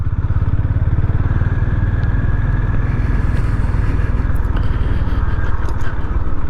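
A Honda GB 350 S motorcycle's single-cylinder engine thumps steadily while riding, loud and close, with a low pulsing beat and some rattle and wind noise throughout.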